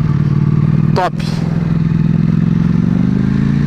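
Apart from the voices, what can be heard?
Ducati Panigale V4 S motorcycle V4 engine running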